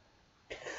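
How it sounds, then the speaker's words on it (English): A person indoors sneezes once, a short faint burst that breaks abruptly out of near-silence. "Oh, I sneezed."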